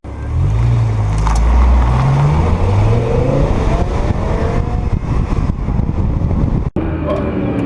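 A BMW E60 M5 V10 engine revs hard and climbs through the gears, a loud, continuous roar with rising pitch sweeps, close by.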